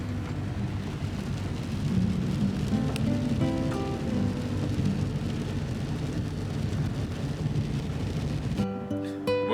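Rain falls on a van on the Dempster Highway, a continuous dense patter on the roof and windows with low road rumble beneath, ending in a few tonal electronic beeps.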